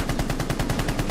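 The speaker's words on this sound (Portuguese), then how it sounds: "Acertei dois tiros no cara" Rapid automatic gunfire in the Rainbow Six Siege video game, a dense, loud burst of roughly a dozen evenly spaced shots filling the whole moment with no talk over it.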